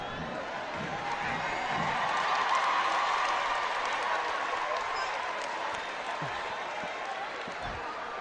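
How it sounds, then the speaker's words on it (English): At a 2022 Independence Day parade, a large outdoor crowd cheers and applauds a stray dog wandering onto the route. The roar of cheering and clapping is steady and swells in the middle before easing slightly. "the crowd seems to be going wild for this interloper"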